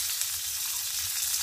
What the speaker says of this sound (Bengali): এই যে সরিষার তেল দিয়ে নেওয়া হচ্ছে।